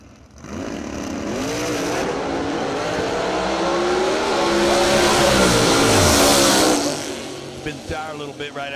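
A drag racing car at the Yellow Bullet Nationals launches hard and spins its tire, a loud sustained engine roar with rising pitch that swells for several seconds and then fades, while an announcer talks over it.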